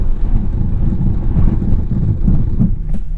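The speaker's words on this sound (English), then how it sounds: "Do a little 60-0 emergency brake stop." A 2021 Mercedes-Benz GLA 250 stops hard from 60 mph in an emergency brake test, a steady loud low road and wind rumble running throughout with a slight drop near the end and no talking.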